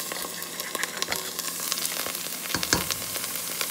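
Minced garlic sizzles steadily in a hot pot, a constant bright frying hiss with small crackles and pops throughout.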